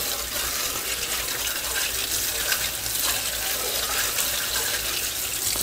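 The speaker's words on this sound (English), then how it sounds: "I'm gonna go ahead and release the water here and give it a good rinsing" Steady rushing water from a tap or hose rinses soap off a plastic RC car body before spray painting, a continuous broadband splash held at even loudness with no talk.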